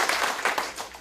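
Audience applause at a Korean discussion forum, welcoming a university economics professor as the first presenter; brief, moderately loud clapping from a small seated crowd with no talk.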